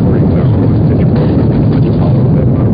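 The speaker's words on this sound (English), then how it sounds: "Liftoff. We have a liftoff. 32 minutes past the hour. Liftoff on Apollo 11." The Apollo 11 Saturn V rocket lifts off with a loud, continuous, dull roaring rumble that holds steady and muffled from start to finish.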